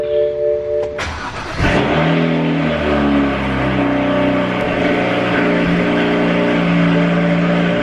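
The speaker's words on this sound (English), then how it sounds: "Starting it off right with a little cold start" A BMW 335is is cold-started: a short whir and click, then the engine catches with a sharp rev flare and settles into a loud, steady high idle close by.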